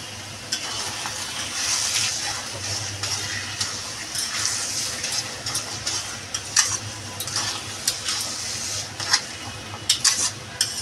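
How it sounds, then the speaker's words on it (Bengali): Bottle gourd and shrimp curry with chopped coriander being stirred in a pan, soft scraping and clinking of the spoon against the pot over a low simmer, with sharper clacks growing more frequent toward the end. "আমি এই যে ধনেপাতা কুচি দিয়ে নাড়াচাড়া দিয়ে নামিয়ে নেব"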